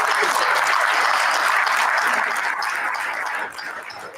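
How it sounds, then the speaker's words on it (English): Board of education meeting attendees applauding together, a steady roomful of clapping that holds strong for about three seconds before easing off slightly toward the end. "I would love to all of you give yourselves a round of applause for this."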